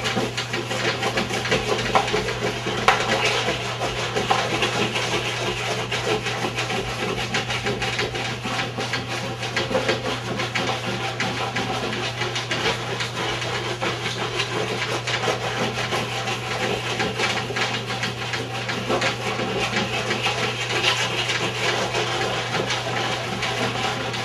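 Cold water wax rubbed in circles across a surfboard deck, a steady close scraping and rubbing texture that continues evenly throughout with a constant low hum underneath.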